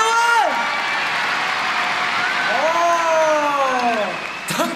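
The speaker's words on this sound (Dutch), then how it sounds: "Klappen, stampen, schreeuwen!" A television studio audience at a Sinterklaas party show claps, stamps and shouts in a loud, sustained roar of crowd noise lasting several seconds, with whoops rising over the din before it tapers off.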